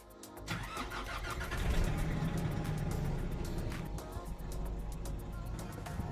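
A car engine cranks and fires up on power from a Bluetti Charger 2 jump starter connected to the battery, then settles into a loud, steady running rumble close by.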